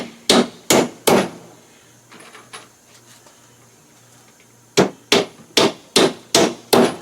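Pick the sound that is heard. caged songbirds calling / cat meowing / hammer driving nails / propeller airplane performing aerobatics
hammer driving nails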